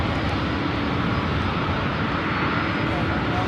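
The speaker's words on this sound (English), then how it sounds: "Another Delta, this time an A220-300 lining up." A Delta Airbus A220-300 jet lines up on the runway, its engines giving off a steady, broad roar. The whine holds at an even level throughout, with talk running faintly underneath.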